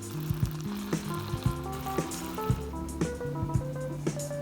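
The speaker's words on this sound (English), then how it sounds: "you may choose to pan fry or air fry the longanisa" Skinless garlic longganisa, a Filipino sausage, sizzles steadily in a frying pan, a continuous close crackle broken by regular clunking taps of a utensil against the pan.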